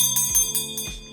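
A tall hand bell rings close and clear, struck three or four times in quick succession with a bright metallic tone that lingers between strikes.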